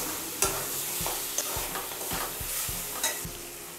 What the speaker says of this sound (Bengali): আলুগুলো একটু কষিয়ে নেব।